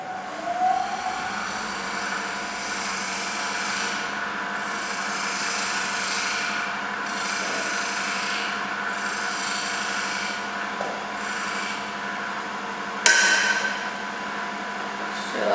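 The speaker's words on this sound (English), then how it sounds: "Spindle gouge now so that we can get in and start to round that off" Steady rasping hum of a spindle gouge cutting and rounding a wooden piece spinning on a lathe in a workshop, continuous and close, with a motor tone underneath and a brief louder scrape near the end.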